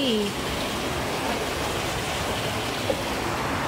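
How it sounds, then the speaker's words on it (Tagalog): Fast floodwater surges past during Typhoon Kristine in Bicol, Philippines, a steady, fairly loud broadband roar of churning water with a brief sound at the very start. "Ang bilis ng tubig."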